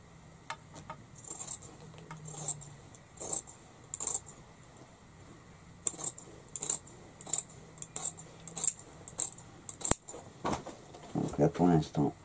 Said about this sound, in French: Et je vais simplement couper